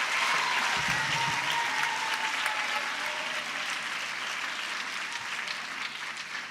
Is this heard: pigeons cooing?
no